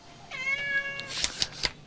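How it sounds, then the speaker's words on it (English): A barn cat on a farm gives one clear drawn-out meow close by, followed by a few short rustling thumps. "Look at that lazy barn cat."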